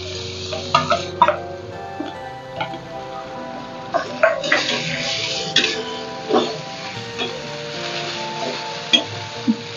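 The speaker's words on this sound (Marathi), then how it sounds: "त्यामध्ये रताळ रताळ्याचा किस परतून घ्यायचा" Grated sweet potato being sautéed in ghee and stirred, with a close spoon scraping and tapping against the pan in uneven knocks over a soft sizzle, no talking.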